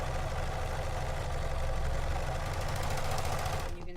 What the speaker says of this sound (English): So again, sergers are awesome